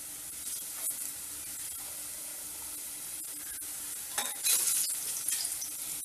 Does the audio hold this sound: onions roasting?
yes